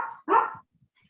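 A dog gives a short, sharp double bark close by. A brief lead-in yelp comes before one louder bark, and then it goes quiet.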